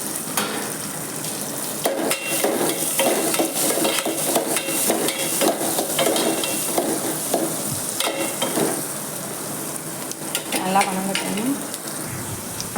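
Small onions and curry leaves fry in oil for a vegetable kurma: continuous close sizzling with frequent stirring clatter of a spoon against the pan, and no clear talk.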